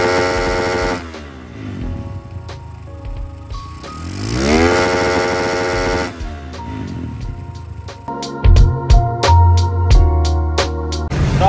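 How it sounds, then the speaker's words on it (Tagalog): A motorcycle engine, running again after hours of repair work, revs up and down in several loud, close sweeps. It then shifts into a sharper, rapidly pulsing burst near the end. "So after ng ilang oras na kalikot dito, napagana na natin siya"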